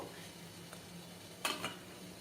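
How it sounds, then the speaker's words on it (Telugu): Faint metallic clinks and light scraping as a spork checks steamed dough pieces in a pot on the stove for a traditional Telangana rasam, with a soft steady background hiss. "నేను స్పోర్క్తో చెక్ చేస్తున్నాను"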